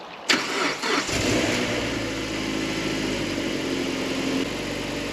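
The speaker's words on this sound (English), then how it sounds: "the engine seems to work" A rusty Japanese car's engine cranks briefly and catches on the first try, then settles into a steady, close idle.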